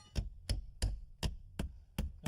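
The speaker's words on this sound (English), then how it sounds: "Tap the shims in." Wooden shims tapped into a front door frame during installation, seven sharp knocks at a steady, even pace, close and distinct with quiet gaps between.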